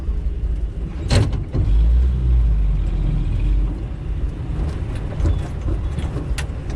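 A Jeep CJ-5 drives along a road, its engine rumbling low and close, with a gear shift as it swells and then settles into a steady cruise.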